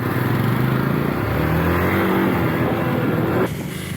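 Off-road motorcycles, a Hero Xpulse and a Royal Enfield Himalayan, race on a jungle trail. Their engines rev loud and close, with a steady droning roar and shifting pitch, and the noise drops off abruptly near the end.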